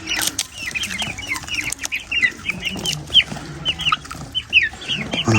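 Japanese chickens and roosters cluck and chatter in a lively farmyard, with rapid overlapping calls close by and a few soft wing flutters among them.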